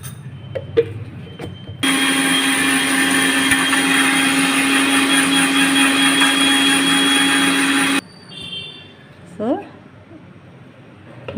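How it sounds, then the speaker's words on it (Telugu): A mixer grinder whirs loudly and steadily for about six seconds, grinding coriander leaves into a paste for chicken gravy, then stops abruptly, leaving quieter kitchen sounds and brief clatter. "ఇందులోనే కొరియాండర్ కూడా కొత్తిమీర కూడా వేసుకొని పేస్ట్ చేసుకుందాం"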